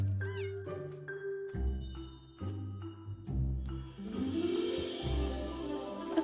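A cat meowing in the video game My Time at Sandrock, several drawn-out meows in a row over background game music, with a brighter chime-like swell partway through.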